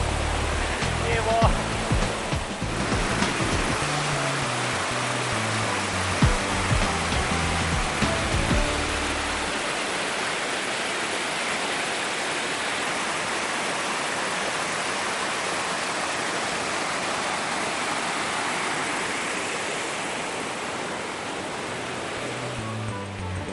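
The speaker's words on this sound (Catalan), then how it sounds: "Tota aquesta aigua surt d'aquell forat d'allà." River water gushes out of a hole in the ground, a constant heavy rushing wash like surf, near and loud; low rumbling handling noise and a voice appear in the first seconds before the water sound continues alone.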